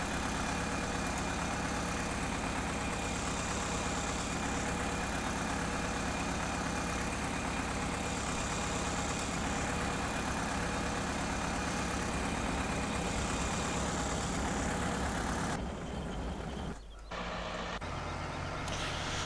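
A tractor engine in Farming Simulator 2015 running at a steady idle, a loud continuous drone under light game ambience, briefly cutting and dipping near the end.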